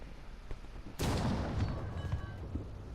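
A single sharp report at a long-range practice setting cracks out loudly, followed by a rolling rumble that fades over a couple of seconds.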